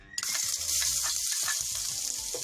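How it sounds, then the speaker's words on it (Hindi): Garlic drops into hot oil and sizzles at once into a bright, steady hiss with small crackles and pops, close and continuous. "ऑयल हमारा गर्म हो गया है, अब मैं इसमें गार्लिक ऐड करूंगी"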